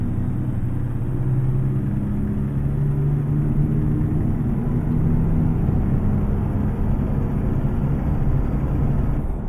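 Steady low rumble of a heavy truck engine in a trucking video game, droning continuously with poor cab sound insulation, a deep monotonous hum with no voices.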